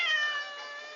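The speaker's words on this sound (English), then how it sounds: "if you can hear the meowing, it's my cat." A single drawn-out cat meow, clear and close, tapering off over about a second.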